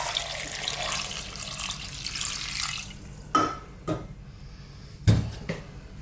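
Water pours from a tap into a pot of lamb vegetable soup, a steady hiss for about three seconds, then a few sharp clanks of pot and lid with no talking.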